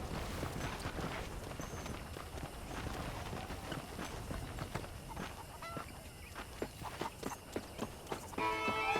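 Horse hooves clip-clop in Red Dead Redemption, a steady run of sharp close strikes over a dense game ambience of wind and honking geese, with no talk.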